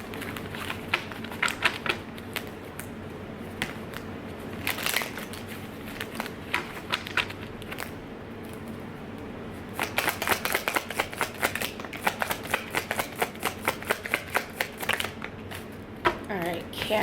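A deck of tarot cards shuffled by hand, heard as scattered papery flicks and then a dense run of crisp riffling clicks in the second half, close and moderately loud, with a voice speaking intermittently.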